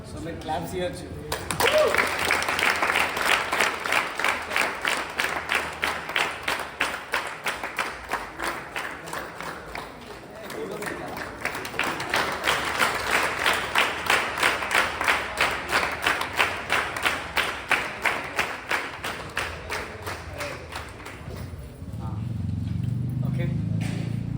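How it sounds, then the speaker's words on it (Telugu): An audience claps at a stage celebration as guests are welcomed up, a long run of rhythmic, fairly uniform clapping that swells, dips briefly midway, then surges again before fading into a low hum of voices. "సో మీరు క్లాప్స్ ఇవ్వచ్చు."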